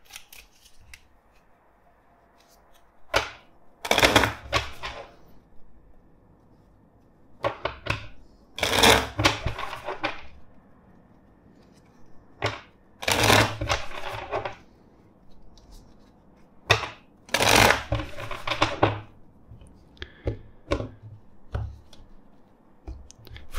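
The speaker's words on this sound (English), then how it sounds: "let's shuffle the deck four times" A tarot card deck riffled and shuffled four times, each round a crisp fluttering burst of card clicks, close up with quiet gaps between.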